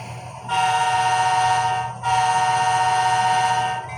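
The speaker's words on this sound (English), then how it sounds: "honk the horn" Two long blasts of a model train horn with a steady harmonic tone, a short break between them, loud and close over a low mechanical hum.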